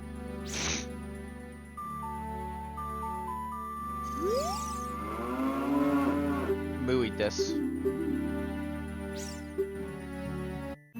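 A cow in a Zelda game lets out a long, drawn-out moo with sweeping pitch, close and clear over a soft tinkling chime and quiet background music, heard alone without speech.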